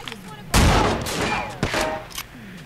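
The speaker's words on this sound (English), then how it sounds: "Out of all the places where you could be having a gunfight, of course you choose Club Bam Bam" A gunfight inside Club Bam Bam in the Sleeping Dogs video game: loud, sharp gunshots, a big one near the start and another a second later, with smaller pops and echoing room ambience between.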